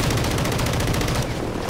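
Rapid automatic gunfire rattles continuously in a video game, close and loud, as a dense stream of shots with a steady rhythm.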